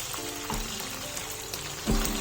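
Chicken pieces frying in a pan, giving a steady dense sizzle with a few clinks and scrapes as they are turned, close and continuous.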